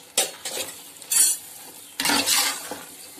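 Grated coconut being sautéed in a pan for chicken biryani: a spoon scrapes and stirs in bursts with a light sizzle, close and fairly loud, with no talking.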